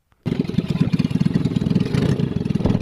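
A small fishing boat's engine starts up and chugs steadily with a rapid, pulsing putter, loud and close, running continuously.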